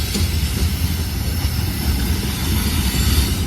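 Freight hopper cars for sand or concrete roll past in a loud, close, continuous rumble of wheels on rail with low rhythmic thumping and no voices.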